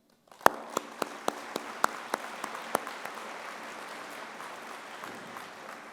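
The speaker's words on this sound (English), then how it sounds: "That deserves a round of applause." Sharp individual claps ring out in a quick, slowing sequence over a spreading wash of audience applause at a commencement ceremony, moderately distant and fairly quiet.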